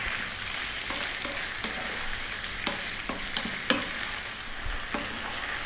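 About two cups of onion fry in a pan for chicken coconut masala, with a steady sizzle underneath and a series of sharp scraping stirs every second or so, close and clear, with no one talking.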